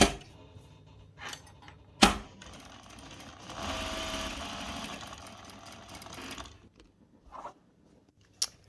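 A home sewing machine stitches a French seam corner with a short whirring run of rapid needle strokes, framed by a few sharp clicks and thumps as the needle is planted and the fabric pivoted.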